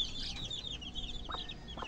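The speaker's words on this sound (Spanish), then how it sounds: "También tenemos esta hermosa gallina, la cual la estamos preparando para nueva vez producir." A hen clucks on a small farm, two soft brief clucks near the end over faint bird chirps and low background noise, fairly distant and quiet.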